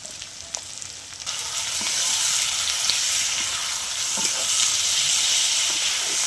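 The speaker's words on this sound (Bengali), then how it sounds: "পেঁয়াজ দিয়ে দিলাম, আদা রসুন টমেটো কাঁচা লঙ্কা দিয়ে দিলাম" Onion, ginger, garlic, tomato and green chili hit hot oil with a bay leaf in a pan, crackling quietly at first, then swelling into a loud, steady sizzle with small pops throughout.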